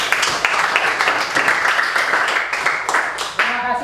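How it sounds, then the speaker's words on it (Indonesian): Applause from a classroom of pupils for a group that has just presented, a dense, steady patter of small hands clapping close by for about four seconds, with a few louder individual claps standing out. "Kita berikan tepuk tangan untuk kelompok religius."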